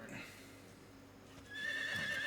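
A horse whinnies in a game soundscape, a high wavering neigh rising over ambient background noise after a faint voice early on.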